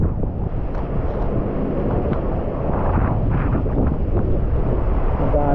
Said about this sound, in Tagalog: Lakas pa rin ang hangin guys.